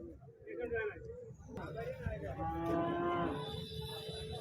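A buffalo moos loudly and long at a weekly cattle market, the call rising over crowd chatter and nearby voices.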